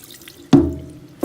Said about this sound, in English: we're going to put some more tap water in this